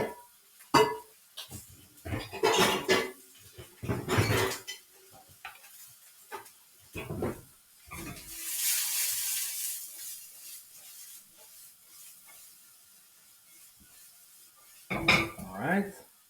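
Dishes, pans and utensils clank and scrape in bursts while bacon, turkey, mushrooms and broccolini stir-fry with a quiet sizzle in a pan, with some brief hissing in the middle.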